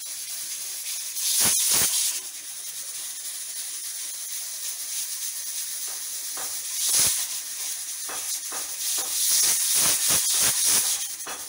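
A pressure cooker on a stove cooking dried tapioca, letting out loud bursts of hissing steam, first a long hiss, then later a cluster of rapid hissing pulses over a steady background.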